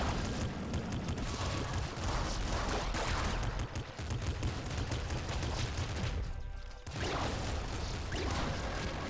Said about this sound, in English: Whoa! Laser beam. Laser beam.